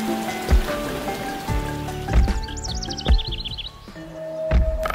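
Rain falling steadily on a surface, with scattered heavier drops landing close by and small birds chirping intermittently in the background, no voices.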